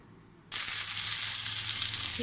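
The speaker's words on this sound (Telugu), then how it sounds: "కొద్దిగా 1 స్పూన్ ఆయిల్ వేసి ఆనియన్, టమాటోస్ ఫ్రై చేసుకుందామండి." Onions and tomatoes hitting about a spoonful of hot oil, bursting into a loud, close, steady sizzle after a brief quiet moment and holding on without talk.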